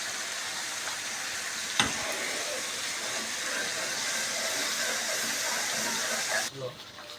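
Red chili, turmeric and spices frying for Lahori-style beef paya (beef trotters), a steady broad sizzle throughout with one sharp tap, fading near the end.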